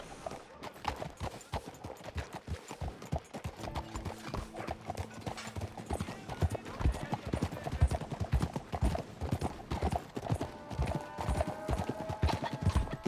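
Horse hooves clip-clop at a steady trotting rhythm in the video game Red Dead Redemption 2, loud and close throughout over a light game backdrop, with no speech in the clip.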